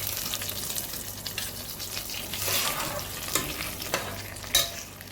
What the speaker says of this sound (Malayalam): നമുക്ക് കടുക് വെച്ചത് ഇതിലോട്ട് ചേർത്ത് കൊടുക്കാം.